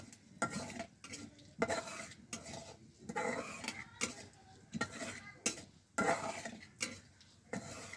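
Food frying in a home kitchen pan, with a spoon stirring and scraping against the metal, irregular clinks and scrapes over a soft sizzle, close and fairly quiet with no voices.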